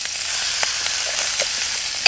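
Linguiça sausage sizzles steadily in a pan on a compact wood-burning stove built from a fire extinguisher, a dense, even crackle with a few soft pops and no voices.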